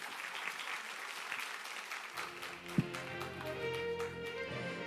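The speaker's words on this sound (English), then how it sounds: "Once again, a round of applause for our track chair this morning, Dr. Lau Zipeng" Audience applause at a medical conference, a room full of clapping that is moderate and steady, with a brief thump partway through.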